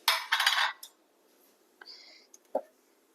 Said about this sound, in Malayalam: ഇതിലേക്ക് നമുക്കൊരു ഒരു മൂടി ഇങ്ങനെ വെച്ചു കൊടുക്കാം.